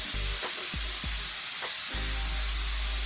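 Steady sizzling of garlic frying in butter in a pan, a loud, even hiss with a few soft scraping stirs near the start.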